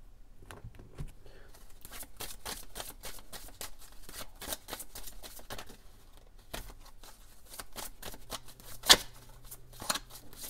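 Oracle cards are shuffled by hand in a steady run of soft, close slaps and riffles for about ten seconds, with a couple of sharper snaps near the end and no speech.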